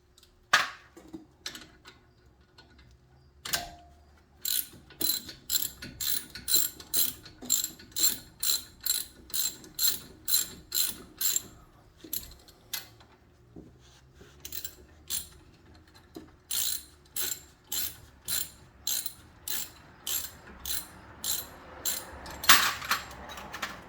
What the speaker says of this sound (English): you can use 17 socket, 17, okay, to tighten it up